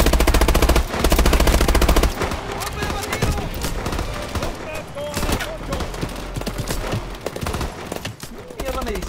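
Rapid automatic gunfire from Call of Duty Advanced Warfare on PS4, loud and dense bursts of shots rattling continuously through a busy campaign battle, with shouted voices over the combat.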